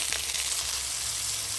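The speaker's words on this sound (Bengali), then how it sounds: "কড়াইতে আমি সরষের তেল দিয়ে দিচ্ছি আলুটা কষার জন্য" Potatoes fry in very hot mustard oil in a kadai, giving a steady, close, loud sizzle that stays even throughout the short moment, with no talking.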